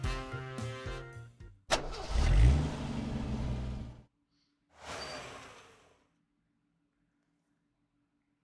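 A car from the game Cupid Parasite starts up, its engine revving loudly as it pulls away, then a second, softer burst of engine noise fades out into silence.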